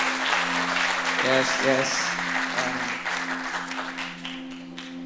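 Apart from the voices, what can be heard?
audience applause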